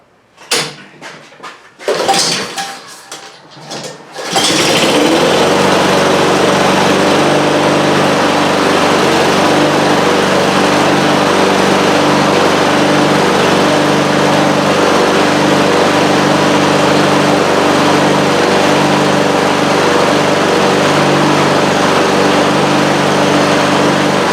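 A Honda lawn mower engine with the choke set is pulled over outdoors in the shade, then catches on a single pull and settles into a loud, steady running drone close by, with no talk.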